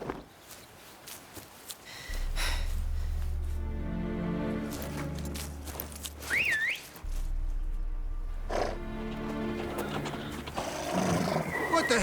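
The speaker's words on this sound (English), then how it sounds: "Horses? Ready our horses!" Horses whinny and neigh in The Witcher 3: Blood and Wine, a loud close call over a low droning score, followed by further snorting and neighing amid movement sounds and a second drone.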